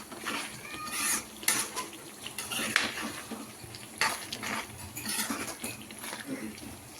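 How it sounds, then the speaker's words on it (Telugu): Gongura prawn curry with sorrel leaves and raw prawns being stirred and mixed in a pan, a spoon scraping and clinking against the metal in irregular strokes over steady background hiss. "ఒక్కసారి అన్నీ మిక్స్ చేసేసుకుందాం."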